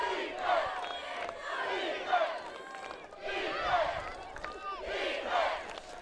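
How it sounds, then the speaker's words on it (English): Home crowd at a Gordon-Rushville versus Chadron high school football game chants rhythmically in swelling waves, loud and sustained, with voices rising and falling together for the defense. "The hometown crowd chanting for the defense."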